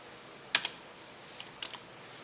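A few computer keyboard keys pressed during data entry in accounting software, two quick clicks followed by a small cluster of soft taps, close and quiet with no talk.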